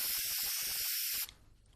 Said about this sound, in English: all that is left is the last step, which is spray varnish.